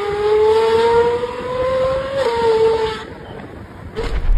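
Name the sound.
Ferrari 812 Superfast naturally aspirated engine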